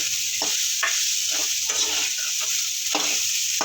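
Dry red chillies roasting in a pan while making a Tamil thuvaiyal, a steady close sizzle with repeated scraping stirs coming in a loose rhythm.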